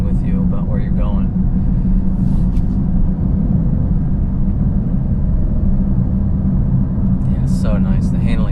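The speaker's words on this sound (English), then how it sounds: "Alright, so that's just a little bit of throttle and wow." A 505 hp Alfa Romeo Stelvio Quadrifoglio's engine holds a deep, continuous rumble inside the cabin, loud and steady throughout, while someone speaks briefly at the start and again near the end.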